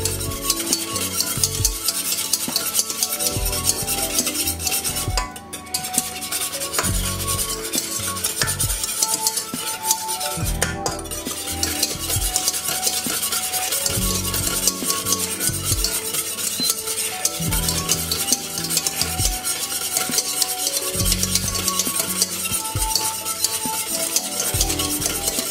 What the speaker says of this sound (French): à chaque coup de fouet, on doit voir commencer à voir le fond de la casserole